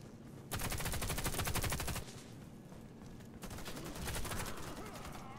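Video-game gunfire in Warface: dense, rapid automatic bursts crackle loudly in two long volleys with a brief lull between, with faint voices underneath.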